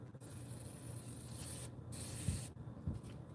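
Cleaner sprays in short, sharp hissing bursts onto gasket parts of a TW motorcycle during a driveway gasket swap, with brief pauses and light rubbing sounds between the close blasts.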